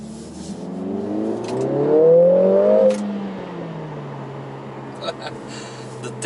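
A 2021 Mercedes-AMG A45 S with 421 horsepower on a test drive: the engine swells into a rising rev, then eases back to a steady cabin drone.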